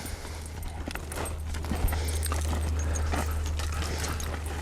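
Hooves clip-clop softly on the ground, irregular steps of a blind Arab-cross mare moving about, over a steady low hum.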